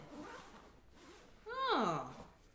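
Zipping the canopy cover of a Nuna Pipa infant car seat: one quick, bright zipper pull, close and clear, after a moment of soft indoor background.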